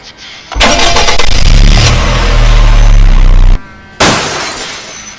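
School bus engine in the driving game Car Crash Drive, with a loud throaty roar and heavy crunching noise that runs for about three seconds, cuts out abruptly, then surges back after a short pause.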